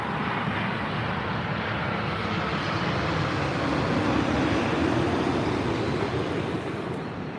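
Steady broadband roar of an airplane coming in to land at London Heathrow, loud and continuous with a slight swell midway, no voices over it.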